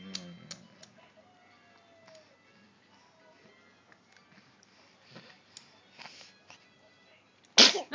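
A baby's single sharp sneeze bursts out loud and close near the end of a quiet stretch of mealtime sounds at home, with faint soft noises and light stirring before it.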